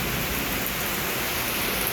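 Heavy rain pours down in Guntur, a steady, even wash of hiss that fills the whole short stretch at moderate level with no voices or breaks.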